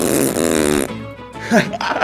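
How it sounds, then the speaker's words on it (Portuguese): In the video game GTA 5, a long, buzzy fart sound effect plays loudly up close, followed by excited talking and laughter. "Toma um peidão na sua cara, hein, Hulk."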